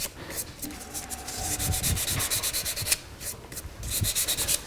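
Grit sanding on a lathe-turned wooden necklace pendant, working with the grain: steady abrasive rubbing with rhythmic pulsing strokes, close and moderately loud, with no talk.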